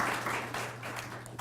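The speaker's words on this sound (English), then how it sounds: "one last round of applause for all the people who read here tonight" Steady applause from an audience at a literary magazine reading, a continuous wash of clapping hands that holds at an even level throughout.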